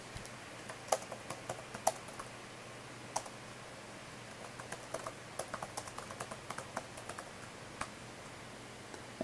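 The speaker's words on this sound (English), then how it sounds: "you can type a message" Soft, irregular keystrokes on a computer keyboard as a message is typed, scattered clicks with brief pauses over a quiet room background, fairly close and faint.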